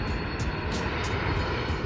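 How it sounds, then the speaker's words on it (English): An airplane passes low overhead near Anchorage, Alaska, a loud steady engine roar that fills the whole stretch with no voices. "We tried to keep moving down to get directly underneath of a plane"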